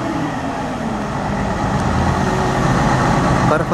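A crane lifting a crashed truck off a highway at the roadside after an accident, its wheels rising off the ground. Steady heavy engine rumble and traffic noise fill the scene, with mechanical clanks near the end.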